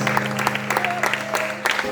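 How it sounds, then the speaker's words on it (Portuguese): Applause from a church congregation at a Friday worship service, steady clapping filling the room with a sustained hum beneath and a few faint voices calling out. "Vamos dar uma salva de palmas para Jesus, vamos."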